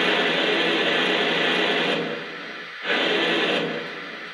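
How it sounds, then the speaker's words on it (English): A steady hiss of cylinder steam from a Lionel 2-8-2 L1 Mikado model steam locomotive drops away briefly, then resumes at full strength. "Here's the cylinder steam sound."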